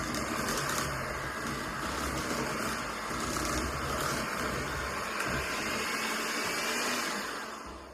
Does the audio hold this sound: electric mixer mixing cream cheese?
yes